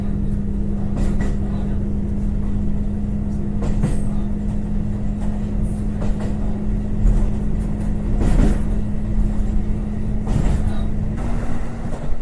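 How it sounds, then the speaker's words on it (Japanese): A Rumoi Main Line train cruises steadily at about 80 km/h, giving a constant rumble and hum from inside the carriage with occasional rail clicks and thumps. "この辺りコンスタントに80キロぐらいで走っている印象です。"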